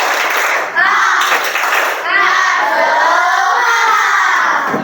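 Student groups in a classroom perform a rhythmic clapping chant, loud and close, with children's voices shouting along over the patterned claps.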